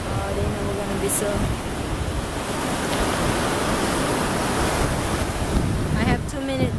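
Small ocean waves break steadily at Ocean Beach, San Francisco, in a loud continuous wash mixed with wind buffeting the microphone, while voices briefly speak near the start and end.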